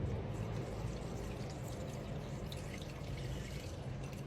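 Water poured into panettone dough along with softened butter and crumbled yeast, a steady close liquid splashing and trickling into the bowl for several seconds, with no talking.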